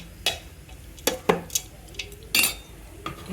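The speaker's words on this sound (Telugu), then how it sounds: "వేయించుకున్నవన్నీ మనం ఇలా వేయించేసి ఇలా చక్కగా కలిపేసుకోవాలండి" Fried ingredients being mixed into mango pulihora rice with a metal spoon, producing sharp scattered clinks and scrapes against the vessel, close and fairly loud, with quiet gaps between strokes.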